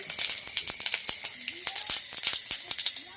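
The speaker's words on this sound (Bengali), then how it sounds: "তেজপাতা শুকনো লঙ্কা তেলে দিয়ে দিলাম" Bay leaves and dried red chillies crackle in hot oil at the start of a Bengali chalta pickle, with sharp little pops and a light sizzle over a few seconds, fairly close; a voice is faintly audible.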